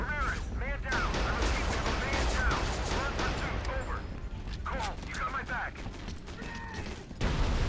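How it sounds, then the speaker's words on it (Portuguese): Gunfire from the video game Area 51, with rapid overlapping shots and bursts close up and loud, running through most of the clip while excited voices talk over it. "Tem barulho de tiro"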